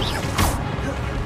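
Spell-casting effect from the video game Hogwarts Legacy: a short rising magical whoosh with a crackling burst in the middle, heard over a steady layer of game background sound.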